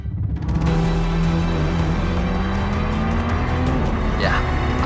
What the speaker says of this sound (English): As we round the final corner at One Raceway